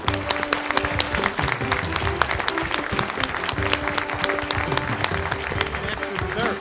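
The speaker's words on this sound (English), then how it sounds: "How about a big round of applause for all the candidates?" Audience at a Republican U.S. Senate debate giving the candidates a round of applause, dense sustained clapping throughout with some voices mixed in.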